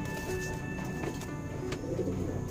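Soft low cooing of a two-year-old male HMT pigeon, a brief murmur close by under steady background noise.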